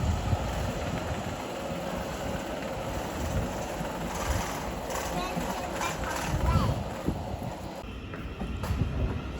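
A Thameslink train pulls out of a London terminus, rumbling close by with clattering wheels and rail noise, while someone talks over it.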